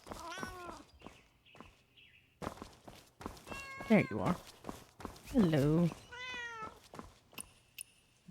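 Cat meowing in the open-world game Where Winds Meet, several drawn-out, pitch-bending meows close by and fairly loud, interleaved with a person talking and light footstep thuds.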